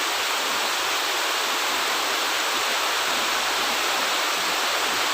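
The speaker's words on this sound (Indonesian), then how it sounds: "Sangat lebat mas bro hujannya." Very heavy tropical rain pours down on an oil palm plantation during a fishing trip, a dense, unbroken hiss that fills the air, loud and close with no other sounds.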